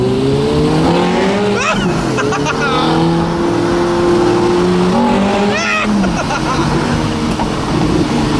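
Ferrari F430 engine in race mode revs hard and loud from inside the car, the note climbing and dropping through gear changes with a continuous roar throughout.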